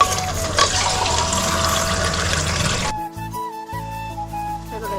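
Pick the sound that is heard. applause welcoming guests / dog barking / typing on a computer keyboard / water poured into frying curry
water poured into frying curry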